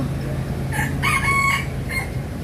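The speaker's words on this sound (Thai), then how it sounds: "ก็ได้ยินเสียงพี่ไก่อีกละ" A rooster crows from inside a bush, one drawn-out call rising and then trailing off, heard fairly close against steady outdoor background noise.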